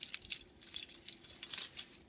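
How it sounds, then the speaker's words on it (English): Keys on a mechanics lanyard jingling lightly, several faint metallic clinks and taps scattered irregularly over two seconds, close but quiet, with nothing else heard. "Next thing is my keys, which I carry on a mechanics wear lanyard."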